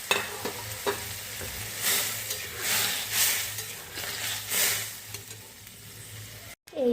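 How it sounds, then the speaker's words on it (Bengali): An egg curry cooks in a pot, giving a moderate bubbling sizzle with swelling hissy bursts and a few clicks of a utensil, and no voices. The clip cuts off abruptly near the end. "এখন এই ডিমগুলো দিয়ে 10 মিনিট ফুটিয়ে নেব।"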